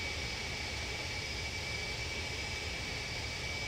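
Steady jet engine hum of an airliner taxiing in a flight simulator game, a constant broadband roar with a thin whine, moderately quiet and unbroken with no talk.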